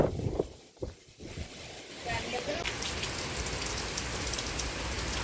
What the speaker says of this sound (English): we're getting rain downpouring right now